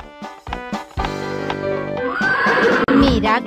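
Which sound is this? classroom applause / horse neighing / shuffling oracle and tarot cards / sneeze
horse neighing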